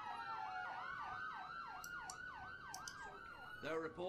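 A wailing ambulance siren from the emergency-response video game Emergency 4 sweeps steadily up and down in repeated cycles, loud and continuous, with a brief burst of other game sounds near the end.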